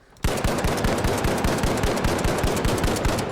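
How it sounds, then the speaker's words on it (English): LH1 gun firing rapidly in The Finals, a steady stream of sharp, evenly spaced shots starting abruptly and continuing for about three seconds, loud and alone. "so I'm going to shoot without moving my mouse and just shoot as fast as I can."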